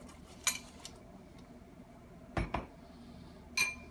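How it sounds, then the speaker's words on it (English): Broccoli florets and other vegetables tipped into a cooking pot of mung beans and rice, giving a few sharp clinks and knocks spaced apart over a quiet background. "So we're going to add that to the pot."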